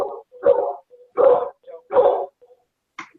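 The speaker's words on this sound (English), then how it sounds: "I don't know whose dog's barking." A dog barks in three loud, separate bursts about 0.7 s apart, with softer yips and whines between them, heard close and alone in a quiet room during an online counseling session.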